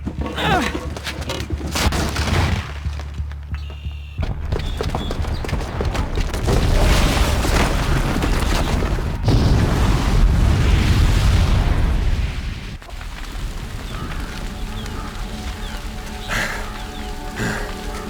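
Booby-trapped bomb in the video game Horizon Zero Dawn detonating, with repeated crackling bursts and a long deep rumbling explosion roar that fades into debris and game sounds, no talk.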